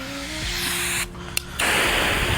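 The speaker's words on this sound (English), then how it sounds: "little 3 nozzle, kind of shower spray, mister" A steady hiss of water spraying from a garden hose nozzle on its shower setting, cut off for about half a second with a sharp click before the spray resumes, close by.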